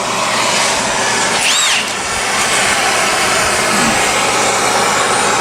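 Pneumatic impact wrench driving bolts through a ring gear into a differential housing on a twin-turbo Dodge Ram 1500 with a welded diff, a loud steady mechanical whir filling a shop, briefly dipping near the middle with a high squeal.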